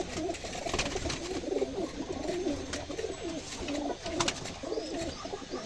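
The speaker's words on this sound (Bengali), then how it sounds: "ওই পায়রাগুলো ছেড়ে দিচ্ছি" Pigeons coo in soft, repeated throaty rolls close by as they are released, with several birds calling over each other against a low background murmur.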